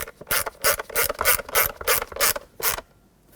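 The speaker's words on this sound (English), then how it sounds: "So let's put in the 2 Phillips head screws." Phillips head screws driven by hand into the plastic cup holder panel of a 2008-2010 Ford F-250, a close rhythmic ratcheting of about eight quick strokes in a row, then a pause, one more and silence.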